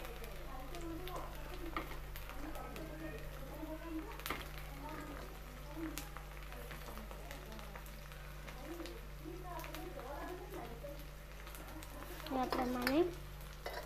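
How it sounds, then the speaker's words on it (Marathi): Chopped onions and green peas fry in a pan with a soft, steady sizzle and occasional stirring, heard beneath someone speaking Marathi in a home kitchen. "मी याच्यामध्ये थोडेसे वाटाणे टाकते, वाटाणे पण कांद्यासोबत छान फ्राय होऊन जातात।"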